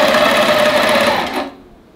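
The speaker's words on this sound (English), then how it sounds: "Let me stitch a little higher." A sewing machine stitches quilting fabric in a fast continuous mechanical whir that stops abruptly near the end, loud and close with no voices.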